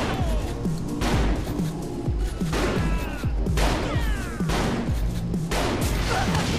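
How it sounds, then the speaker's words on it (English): Grenade launcher fire in Saints Row The Third: loud, repeated heavy blasts with whistling shell trails, coming in a steady barrage over a constant rumble of battle. "he's got a freaking grenade launcher"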